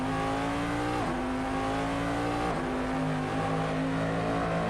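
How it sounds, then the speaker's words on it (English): A Corvette DP race car engine in a racing video game, its loud, steady high-revving drone echoing as if in an enclosed space, with pitch dipping briefly at each gear shift, alone without talk. "When you're in an enclosed space with this car, you get like echo effects."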